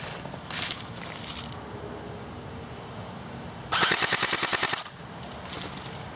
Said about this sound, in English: you've got to put anywhere between about 8 to 10 rounds through it